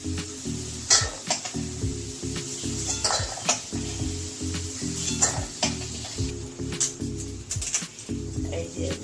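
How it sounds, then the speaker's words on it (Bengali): Potatoes fry in hot oil in a pan, sizzling steadily while a utensil stirs and scrapes with repeated clinks, close and fairly loud. "এই যে আলু ভাজা হয়ে গেছে, এবারে আলুগুলো নামিয়ে নেব"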